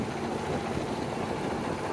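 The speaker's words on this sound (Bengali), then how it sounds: "এখন স্টিমার ছেড়ে দিছে" A steamer boat's engine running steadily on a river, a continuous low, even rumble heard at close range with no voices.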